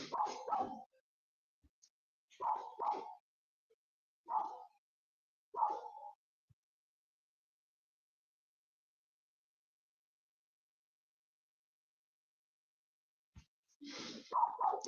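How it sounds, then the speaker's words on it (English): A cartoon dog barks in an animation: four short, separate bursts in the opening seconds, then a long silence, then another cluster of barks near the end, all fairly faint. "That's a lovely dog."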